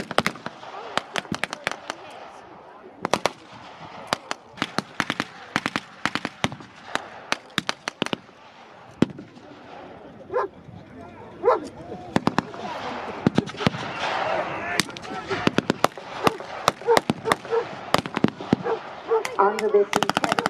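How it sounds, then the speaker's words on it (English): Rapid, scattered bursts of blank gunfire at a WWII Normandy battle reenactment, some shots near and sharp, others distant, with crowd noise and a voice underneath. "this intense enemy fire, some of the Allied soldiers begin to fall back."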